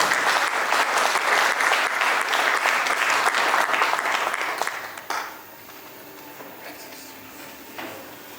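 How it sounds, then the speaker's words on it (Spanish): Audience applause welcoming the author at a book presentation in Cochabamba, a dense steady clapping for about five seconds that then drops off sharply, leaving a quiet room with faint stray sounds. "Vamos a recibirlo con un fuerte aplauso"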